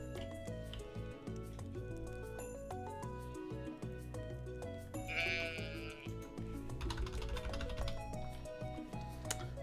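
Sheep bleating in the farming game Stardew Valley, a short bleat standing out over steady game music, with no talking.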